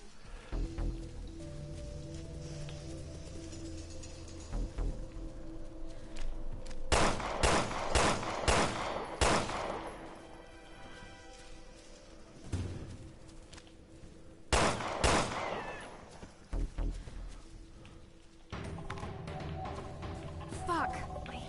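Gunfire in the video game Resident Evil Revelations 2: two bursts of rapid shots cutting through a quieter ambient bed, with voices heard around them.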